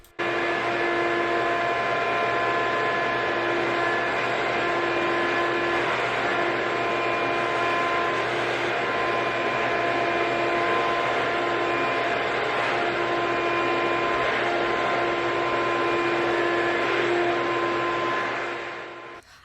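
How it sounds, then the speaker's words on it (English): A powerful HVAC vacuum used to clean car seats, a loud steady whining drone with a constant tone that runs unbroken for nearly twenty seconds and cuts off at the end. "hubby stepped up and brought his super HVAC vacuum to really get these car seats nice"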